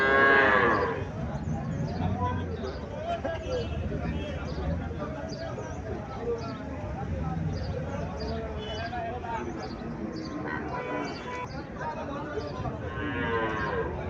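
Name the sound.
Haryana cross cow mooing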